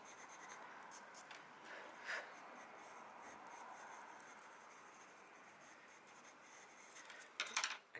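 Soft, continuous scratching of a colored pencil moving across paper, close and quiet, with a few brief louder strokes near the end.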